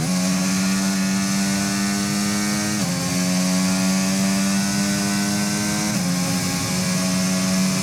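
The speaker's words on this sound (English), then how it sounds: "Yes, that is what the safety car engine actually sounds like." Mercedes safety car engine fitted to an Alpine Formula 1 car in the F1 25 racing game, a loud, steady high-revving drone with two quick gear shifts, continuous and close.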